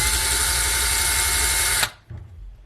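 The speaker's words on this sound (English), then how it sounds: "So now I'm drilling in to the depth of that tape line." A loud, steady electric drill whines continuously while boring into cabinet wood, then stops abruptly, followed by a brief low rumble as it winds down.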